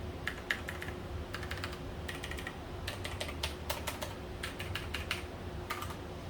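Typing on a budget Havit mechanical keyboard with blue switches, bursts of crisp clicky keystrokes in quick irregular runs, close and fairly clear, with no one talking.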